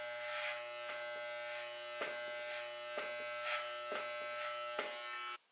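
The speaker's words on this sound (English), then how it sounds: "when you take the clipper up, you're literally just running straight up" Electric hair clippers run continuously close by during a men's haircut, a steady harmonic buzz with faint rhythmic strokes as they pass up through the hair, cutting off at the end.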